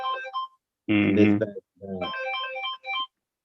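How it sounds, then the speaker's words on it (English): A mobile phone ringtone plays a short melodic tone at the start and again after a voice, while someone talks through the middle of the clip. "That was my phone."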